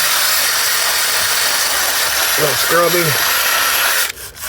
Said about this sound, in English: we're gonna grab our Drill-O-Matic 6000, gently get it in there and just, oh, give her a little scrubby